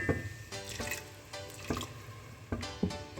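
A few sips of water are poured into a pan of vegetable masala with tomato, potato, cauliflower, peas and carrot, making faint splashy drips and trickles in short bursts, quiet and close, with no speech.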